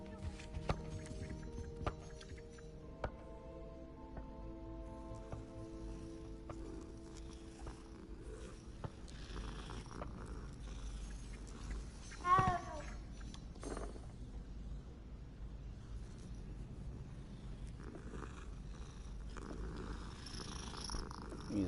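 A cat purrs in the video game Hogwarts Legacy. The purr is a steady, soft, low rumble under quiet in-game ambience, with one brief louder burst midway. Nobody speaks.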